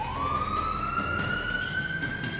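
An ambulance siren in The X-Files collectible card game, a single steady tone gliding slowly upward and holding, fairly loud and continuous over a low rumble.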